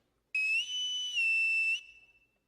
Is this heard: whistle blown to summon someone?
yes